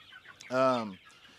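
Silver laced Wyandotte and barnyard mix hens give one loud, close, drawn-out clucking call that lasts about half a second. Quieter barnyard noise sits before and after it.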